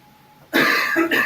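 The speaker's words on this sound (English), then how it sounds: "Do you guys also hear someone sneezing and coughing?" A single sharp cough or throat clear bursts out in a quiet chess tournament hall, loud and close, breaking a near-silent room with two quick rasping pushes.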